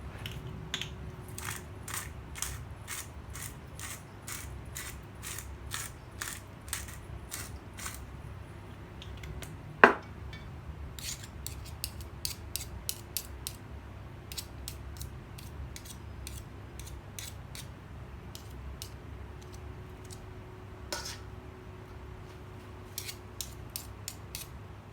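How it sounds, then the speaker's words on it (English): A pepper mill grinding cracked black pepper for potato salad, a steady series of dry, crisp clicks and crunches repeating close by, with a couple of sharper knocks. "I like cracked black pepper."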